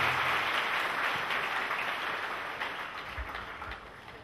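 A church congregation claps for Jesus Christ in a steady wash of applause that gradually tapers off over a few seconds, with a few low thumps near the end.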